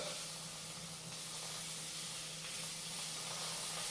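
Tomato puree cooks off with vegetables in a pan, giving a faint, even hiss of steady sizzling with no talk.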